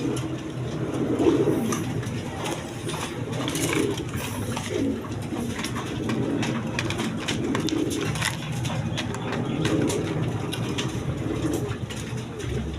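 Three-stripe red pigeons cooing steadily in a busy pigeon market, the soft coos running under a dense wash of crowd and background noise.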